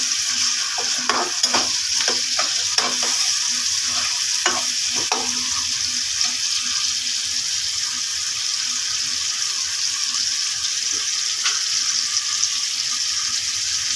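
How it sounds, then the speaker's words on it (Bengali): Chepa shutki (fermented dried fish) stirred and mixed in a pan with freshly added garlic paste, giving a steady close-up sizzle broken by scattered scraping clicks from the spoon, with no talking. "এখন আমরা এটাকে ভালো করে মিক্স করে নেব"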